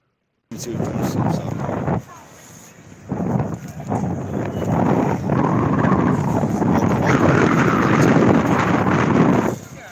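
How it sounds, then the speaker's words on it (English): Heavy buffeting gusts of wind hitting a microphone, loud rumbling bursts after a brief silence, dropping out once and then roaring steadily before cutting off. "It sounds very windy"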